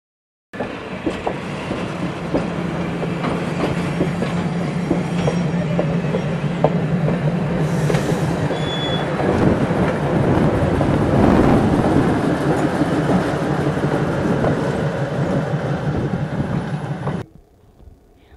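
A train on a museum railway rumbles steadily along the rails, wheels clattering continuously at close range, then the sound cuts off abruptly near the end.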